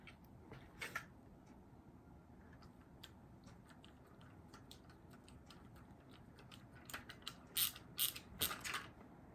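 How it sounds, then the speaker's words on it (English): A small ratchet screwdriver tightens a screw while a Coulisse Absolute Slim clutch is assembled, giving quiet, close clicking pawl ticks in irregular bursts that turn louder and faster toward the end. "So I have a little ratchet screwdriver."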